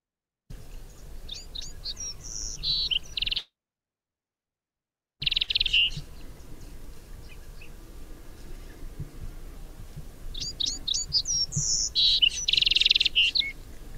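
A Bewick's wren sings in the Chihuahuan Desert, bright trilled phrases repeating at intervals, fairly close and clear over faint background hiss, with a brief silent gap between bursts.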